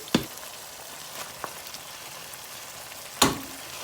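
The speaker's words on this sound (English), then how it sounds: "Then I'm going to add the broccoli." Broccoli sizzles in hot oil in a pan, a continuous soft crackle with a few sharp pops and scraping clicks of stirring scattered through it.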